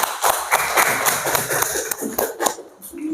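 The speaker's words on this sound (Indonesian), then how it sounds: "Tepuk tangan untuk Hafizah" Applause from a class of young children for a pupil named Hafizah, a dense patter of small hands clapping continuously for about three seconds with light chatter mixed in.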